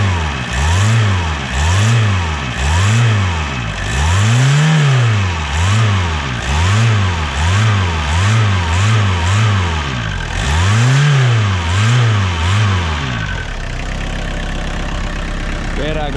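A VW Caddy with about 429,000 km runs after a cold start in freezing weather. The engine is close and loud, rising and falling in repeated rhythmic revs before settling into a lower, steadier idle at the end.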